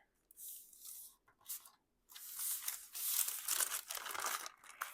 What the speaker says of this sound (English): with this part here, so that it's a little bit stronger, I just fold that down.